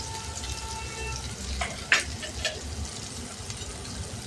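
Onion with red chillies sautéing in a pan for a bottle gourd dal, a soft steady sizzle with a few stirring scrapes and one sharper clatter midway, fairly quiet.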